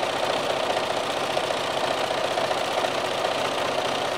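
A sewing machine runs a plain zigzag stitch at a 1.5 stitch length, giving a steady, close mechanical whir with a fast, even needle rhythm throughout.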